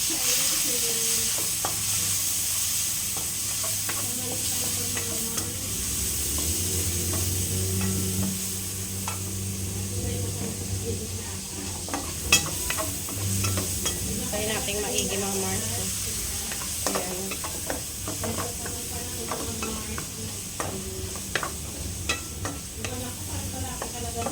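Garlic and onion frying in a pan, a soft continuous sizzle with stirring and scraping sounds, occasional louder clinks of the utensil, with a person talking quietly at times.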